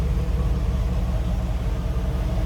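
A stock 1991 Cadillac Allante convertible's 4.5-liter engine idles with a steady, even low rumble, close and continuous with no voices.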